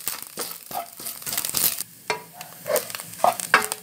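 Salted fish stir-fried in a pan for fried rice gives bright, crackling sizzle broken by repeated scrapes and tosses of a utensil, close and fairly loud with no talk.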